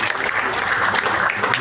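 Seminar audience bursting into loud, dense applause during a product presentation about soaps, many hands clapping together in a continuous close wash.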